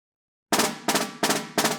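Loud snare drum played as a roll with few bounces per hand, four sharp strokes in quick even succession, each a burst of crisp rattling buzz, close and forceful after a moment of silence.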